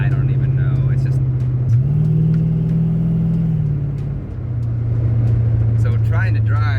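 Steady low exhaust drone from an LS-swapped G-body El Camino cruising at about 55 with the windows up, a loud continuous hum that shifts pitch slightly midway, with some talk in the cabin over it.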